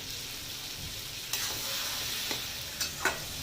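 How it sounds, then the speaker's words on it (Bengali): Ash gourd fries with spices in a pan, giving a soft, even sizzle, with a few sharp scrapes and knocks from stirring toward the end. "এটা ভাজা ভাজা হয়ে গেছে, কষানোটা হচ্ছে।"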